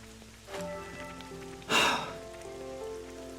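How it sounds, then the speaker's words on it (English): Rain falls in the video game Xenoblade Chronicles 3 as a soft, steady patter under faint sustained music, with a brief louder splash of drops in the middle. "I feel the emotion of fresh rain."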